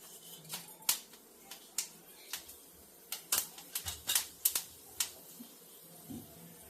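Mustard seeds crackle and pop in hot oil while gulamba mango relish is being made, producing sparse, sharp little snaps at an irregular pace, close but fairly quiet, with no talk.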